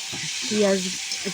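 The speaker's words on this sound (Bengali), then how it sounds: "লাল শাকটা নর্মালি করেছি, শুধু কালো জিরে ফোড়ন দিয়ে, লঙ্কা দিয়ে" Red amaranth greens fry in a pan with black cumin seed and chilli, giving a short, close sizzle that swells in the middle, with a faint voice over it.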